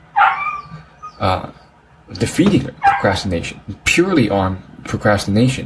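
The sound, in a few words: dog barking and whimpering in the background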